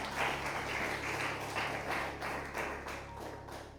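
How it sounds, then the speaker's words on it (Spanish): A church congregation claps together in a steady rhythmic beat, offering applause to the Lord during a service, the clapping filling the room in a broad wash of sound without any voices. "Demos una ofrenda de palmas al Señor con todo el corazón."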